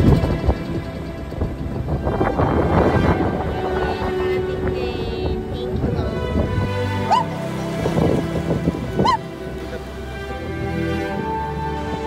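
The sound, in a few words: boat riding on rough waves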